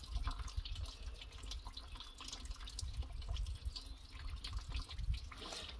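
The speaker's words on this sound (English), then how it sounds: "And I'll just tip the petrol in with it." Petrol tipped into a tin holding diesel residue, a steady splashing liquid pour with continuous trickling and gurgling, close by and without talk.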